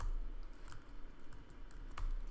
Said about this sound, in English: Now you'll notice that as I'm typing this